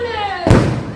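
A single sharp Diwali firecracker burst goes off midway, a sudden booming crack that decays over half a second after a steady tonal hum.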